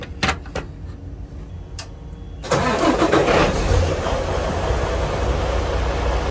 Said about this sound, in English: Let me start up the truck.